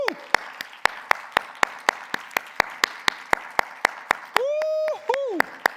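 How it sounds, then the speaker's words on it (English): Audience at a technology conference claps in a sparse, rhythmic pattern of sharp individual claps, joined near the end by a loud sustained tonal whoop or cheer. "let's make a huge round of applause"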